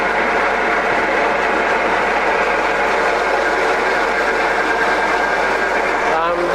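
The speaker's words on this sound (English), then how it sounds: "So now I've got that feed going. And it's feeding that carriage towards me." A Scott 6250 lathe with its carriage running under power feed, giving a loud, steady mechanical drone and whir with a faint rattle of gears, unbroken for several seconds.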